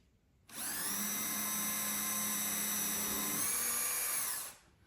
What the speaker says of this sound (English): Aim so I'm not drilling off at an angle.